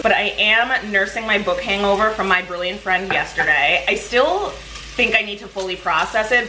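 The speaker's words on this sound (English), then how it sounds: "Sorry about the noise of the bacon frying in the background." Steady sizzling of bacon frying in a pot sits in the background while a person talks continuously over it.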